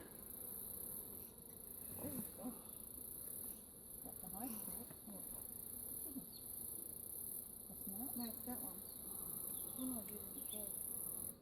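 Honey bees around an open hive stacked with three honey supers fill the scene with a constant, fairly faint droning hum, with brief distant speech-like murmurs underneath.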